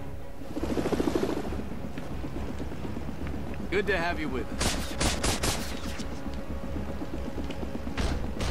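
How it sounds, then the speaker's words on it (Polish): Rotor drone of the Mandarin's helicopter in Lego Marvel's Avengers, steady and continuous, with bursts of game gunfire and explosive cracks breaking in around the middle and again near the end. "Helikopter Mandaryna."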